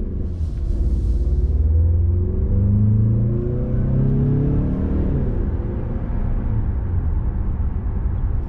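A 2023 Mazda CX-50 pulls out and accelerates, its engine a steady rumble that rises in pitch as it gains speed, heard from inside the cabin with no talking.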